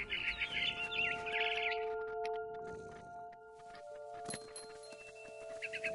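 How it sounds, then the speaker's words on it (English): Bright, rapid chirps and twittering from a barn swallow in the video game What Remains of Edith Finch, heard in short bursts over sustained electronic tones and background music. "Then I heard chirping outside my window. It was a barn swallow going back to her nest."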